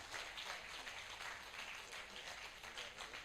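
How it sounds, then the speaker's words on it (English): An audience at an academic panel celebration claps in a soft, steady round of applause, faint and somewhat distant, continuing evenly throughout. "All of you please clap."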